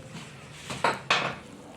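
A kadai, a deep Indian wok, is set down on the stove to heat mustard oil, giving two quick metallic clunks close by in an otherwise quiet kitchen.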